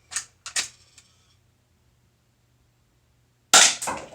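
An airsoft gun with a detachable barrel fires a few sharp snapping shots, two quick ones close together near the start, then a pause before another loud pair of cracks.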